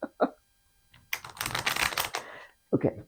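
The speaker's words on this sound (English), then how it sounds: "Okay, I'm shuffling," Tarot cards being shuffled, a dry riffling burst lasting about a second, close and fairly loud, with someone speaking briefly before and after.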